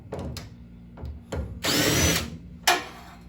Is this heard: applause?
no